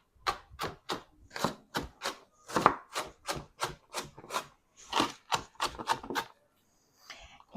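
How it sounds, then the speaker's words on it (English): Onions being diced into small cubes on a board, a run of about twenty crisp, close knife chops in an uneven rhythm, alone with no talking, ending in a short pause. "And then I would just make little cubes of onions."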